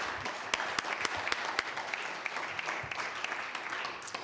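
Applause rises in the House of Assembly chamber, a steady fairly faint patter of many hands with a few sharper individual claps standing out, without talk.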